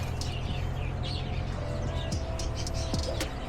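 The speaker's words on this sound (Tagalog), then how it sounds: "Green parrot." A green parrot calls with short, faint chirps and whistles repeated over a steady low background hum indoors at a museum.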